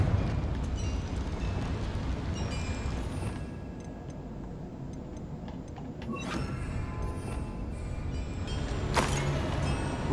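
Confringo explosive spell in Hogwarts Legacy, a dense rumbling blast with crackling bursts and sharp flares over steady game background noise, loud and sustained.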